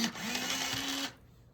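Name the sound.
sharpening a colored pencil in a pencil sharpener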